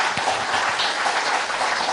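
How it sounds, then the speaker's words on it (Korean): A studio audience at a special public broadcast with a lawmaker keeps up a steady, dense round of applause, loud and even throughout without a break or any voice over it. "박수가 너무 길어서 제가 말을 못 들어가겠어요"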